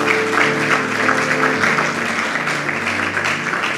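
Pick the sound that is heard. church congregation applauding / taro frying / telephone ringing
church congregation applauding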